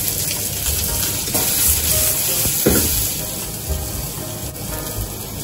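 Onions stir-frying in a pan for a ginger pork dish give a steady, close sizzling crackle with brief stirring scrapes, with no talk.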